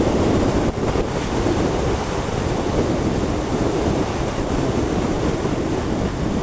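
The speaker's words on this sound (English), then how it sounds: "It is brutally windy." Strong wind roars steadily into the microphone, a dense, blustery rumble with no letup.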